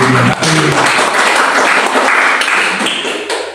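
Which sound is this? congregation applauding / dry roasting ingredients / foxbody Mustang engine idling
congregation applauding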